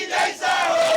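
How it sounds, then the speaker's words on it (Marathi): Political supporters cheer and shout in celebration outside a politician's office, a loud, close crowd roar rising in two quick surges within about a second. "या ठिकाणी जल्लोष सुरू आहे"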